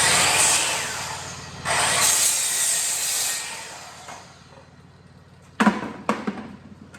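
A wooden board for a wraparound fireplace mantel being trimmed to length with a saw, a steady loud cut for about four seconds that fades out, followed by a few sharp knocks.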